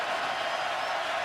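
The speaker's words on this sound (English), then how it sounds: "the crowd going crazy" A packed stadium crowd roaring at a Florida vs LSU college football game at LSU, a dense, steady wash of cheering with no break.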